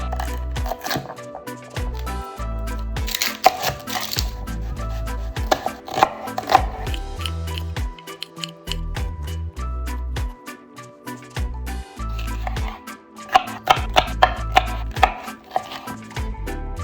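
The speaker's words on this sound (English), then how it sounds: "So we'll just rough chop all these additional ingredients as well." Knife rough chopping hot sauce ingredients such as habanero peppers and mango on a cutting board, rapid rhythmic thuds in bursts with short pauses, close and clear.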